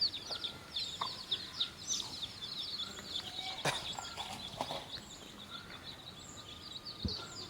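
Country chickens cluck and chirp in a rural yard, a steady scatter of short calls with a few sharper squawks over faint outdoor background, with no talking.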